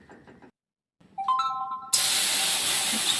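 Water poured into a hot cooking pan bursts into a sudden loud, broad hiss of steam that holds steady to the end, preceded by a short quiet stretch and a brief tonal squeal.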